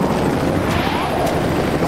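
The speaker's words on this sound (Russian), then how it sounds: "Вертолет! Как круто!" Continuous loud, chopping drone of a helicopter, close by and unbroken throughout.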